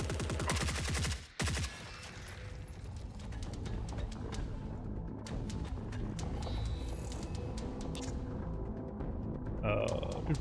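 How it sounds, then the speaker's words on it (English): Shotgun fire in the video game Forever Winter, a dense run of loud blasts and rapid gunfire in a chaotic firefight that carries on without a break, with a voice speaking over it. "Ow, shotguns."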